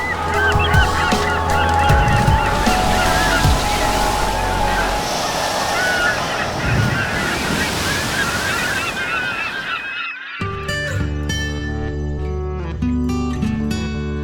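Loud honking seagull calls over a steady roar of surf, then a sudden switch to a bright, layered tonal passage near the end.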